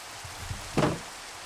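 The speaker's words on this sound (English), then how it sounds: "I don't like the rain. It's so loud." Steady hiss of heavy rain falling in a farming video game, with one brief louder splash burst in the middle; no talking.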